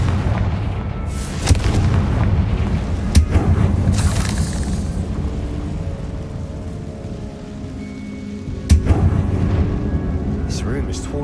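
Explosive spell blasts in the Hogwarts Legacy video game, with several sharp booming impacts over a steady low rumble of game ambience, one strong blast near the end.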